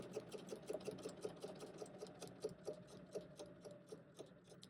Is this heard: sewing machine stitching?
yes